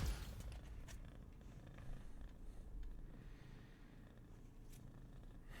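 A kitten purrs close by, a steady low rumbling purr with soft rhythmic pulses running continuously and alone, no talking over it.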